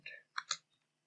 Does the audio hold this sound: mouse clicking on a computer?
yes